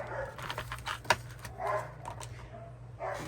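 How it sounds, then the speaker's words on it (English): A pet dog barks indoors close by, a few short sharp yaps rising over a low steady hum. "with the dog barking"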